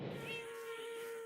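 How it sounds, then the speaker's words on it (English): A cat in the Minecraft video game gives a sustained, wavering cry with a steady tonal line, fairly close and continuous, with no talking over it. "cat keeps hissing at it"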